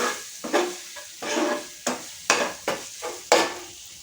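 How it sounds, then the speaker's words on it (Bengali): A spoon stirs turmeric and ground spices in a pan for a green jackfruit curry, scraping in about seven distinct strokes with a soft sizzle between them. No one speaks. "এবার এটাকে আমি আরও কিছুক্ষণ এরকমভাবে নাড়বো, মশলাটা যাতে ভালো করে মিশে যায়।"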